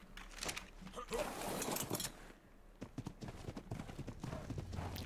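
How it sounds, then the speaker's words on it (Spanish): A horse's hooves clip-clop in a steady trotting rhythm in the video game ARK, fairly close, while players talk over the footsteps. "Voy con el caballo por si acaso."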